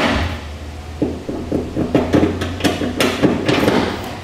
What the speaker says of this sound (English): we'll drop down the U-bolts.